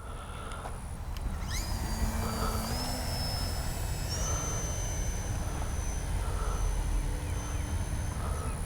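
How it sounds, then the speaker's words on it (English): A Durafly FG-1 Corsair RC model plane flies outdoors, its electric motor a steady, moderately distant drone beneath a thin high-pitched whine that rises and falls as it passes, with continuous wind noise throughout. "Man, I just can't get over how smooth this plane flies."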